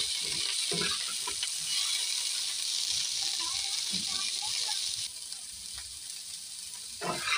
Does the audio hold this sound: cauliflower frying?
yes